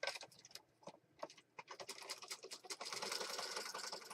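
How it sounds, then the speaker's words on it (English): Sewing machine stitching with black regular thread and a regular needle, running in rapid bursts of mechanical clatter that stop and start, then settle into a steady continuous whir toward the end. "I'm going to go to the sewing machine."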